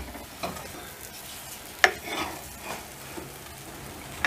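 A spoon scrapes and stirs through thick semolina halva in a pot, with soft irregular strokes and an occasional sharp clink against the metal.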